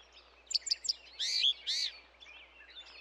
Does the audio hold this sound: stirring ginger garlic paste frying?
no